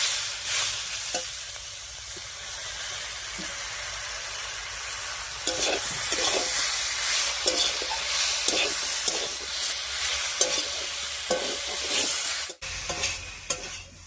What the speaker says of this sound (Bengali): মশলা বাটা দিয়ে একটুখানি কষিয়ে নিলাম